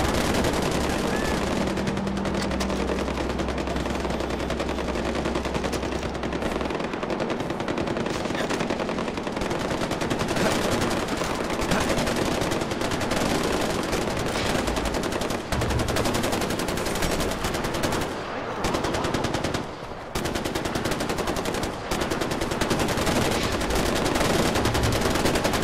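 Sustained gunfire in Far Cry 4, dense machine-gun bursts and rapid shots pounding almost without pause for the whole stretch, loud and close with a few brief gaps, no talk over it.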